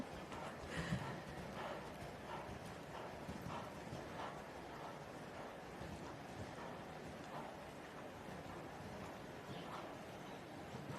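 During a Prix St Georges dressage test, a horse's hooves beat a steady cantering rhythm on the arena surface, soft and somewhat distant beneath continuous outdoor ambience and wind.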